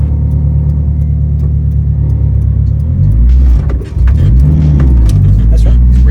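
A big-turbo, 534-horsepower Honda Integra DC5 Type R engine drones loudly up close, then its pitch swoops and rises as the revs climb partway through, before settling into a strong, steady roar.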